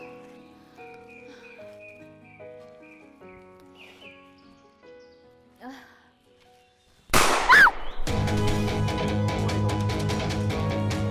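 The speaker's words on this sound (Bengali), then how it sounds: "আমি শুনতে পেয়েছি গুলি শব্দ।" A single sharp gunshot bursts out in a Bangladeshi TV drama after a stretch of soft melodic music, immediately followed by loud, dense dramatic music.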